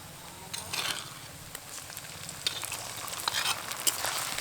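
Sliced onion frying in a pan with ginger, garlic and dried chili paste for a restaurant-style chicken gravy: a quiet, continuous sizzle broken by bursts of crackling and scraping as the mixture is stirred, close and soft, with no talk.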